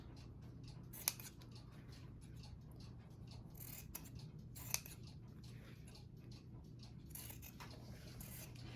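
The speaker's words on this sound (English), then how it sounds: "all I'm going to do is go around and cut the corners off of my material, like so." Scissors snip the corners off fabric, with faint, quiet cuts and a few sharp clicks over a low steady background hum.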